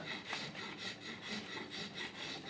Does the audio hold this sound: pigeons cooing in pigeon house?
no